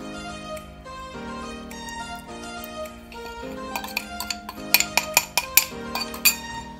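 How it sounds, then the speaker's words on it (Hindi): A spoon mixes a protein salad in a bowl, giving a run of light clinks and scrapes against the dish that grow brighter and more frequent toward the end, with soft background music underneath. "चंगी तरह चमचे की सहायता के नाल इस तरह उपर थले मिक्स करांगे"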